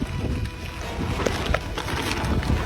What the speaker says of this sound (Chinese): 吹大风了